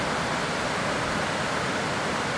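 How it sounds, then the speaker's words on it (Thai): A two-tiered waterfall and stream at a riverside resort pour steadily, a loud, dense, continuous rush of water with no other sounds. "ก็เดินต่อไปไม่ไกลนะครับจะมีน้ำตก2ชั้นนะครับ"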